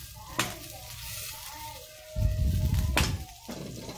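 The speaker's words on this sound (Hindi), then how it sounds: "कढ़ाई बहुत गर्म है और मैंने मक्खन भी डाल दिया है" Butter melting and sizzling in a very hot kadhai, a steady frying hiss with occasional utensil knocks, close by, while someone talks.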